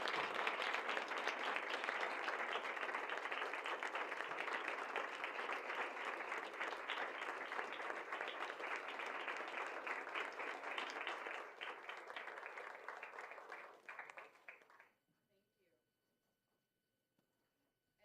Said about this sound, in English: I'd like one more round of applause for all of the winners tonight.